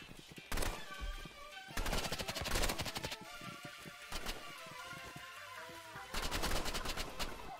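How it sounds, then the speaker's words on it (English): Burst rifle fire in the Roblox shooter Rivals comes as four loud, rapid bursts of closely spaced shots separated by short gaps, with game sounds in between. "That burst rifle is OP."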